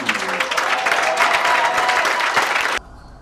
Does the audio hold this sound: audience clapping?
yes